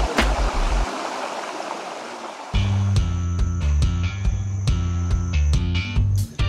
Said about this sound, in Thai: กับน้ำตกร้อนแห่งกระบี่นะสุดยอดเลย